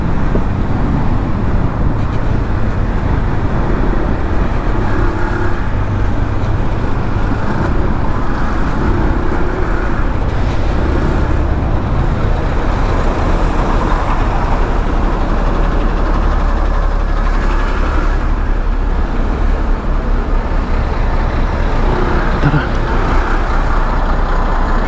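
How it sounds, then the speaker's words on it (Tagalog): Steady, dense road traffic in Manila heard from a rider's position near Timog Avenue and United Nations Avenue, with a continuous low rumble of cars, trucks and buses filling the whole stretch at a constant close level. "So traffic na."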